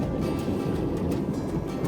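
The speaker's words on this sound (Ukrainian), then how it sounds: "О, який вітер." Strong wind gusting outdoors beside a sadzh griddle heating oil for frying crucian carp, a steady loud rumbling buffet of low roar across the whole moment with no talk.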